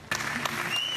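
Applause from an audience after a film screening, a dense clatter of clapping that begins abruptly and holds steady and fairly close for the rest of the moment.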